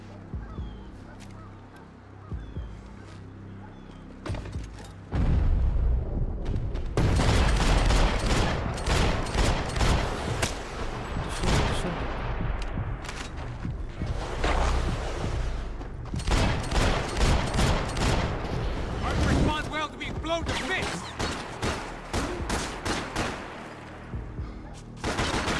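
SMG gunfire in Max Payne 3 comes as rapid bursts of loud, close shots in dense clusters with short pauses. Shouting and chaotic noise are mixed in among the bursts.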